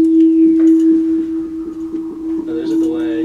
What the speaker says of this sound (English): this drawer did like a cool delay effect